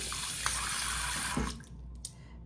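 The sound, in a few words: tap water running into sink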